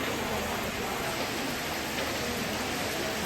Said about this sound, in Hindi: अच्छे से बारिश हो रही है